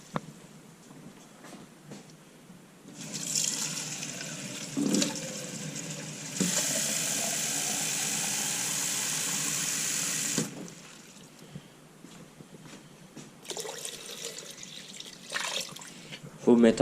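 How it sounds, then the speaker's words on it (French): Lots of water pours from a tap into a stockpot holding a bouquet garni, carrots and onions for cooking octopus, a strong steady gush lasting several seconds, with someone speaking French before and after. "Versez beaucoup d'eau."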